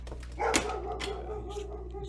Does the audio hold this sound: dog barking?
yes